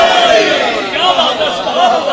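A large gathered audience at a Shia majlis shouts in loud unison in reply to a slogan, a dense roaring crowd response that stays strong and sustained from start to finish.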